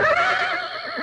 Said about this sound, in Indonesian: Jelas tadi suara kuda.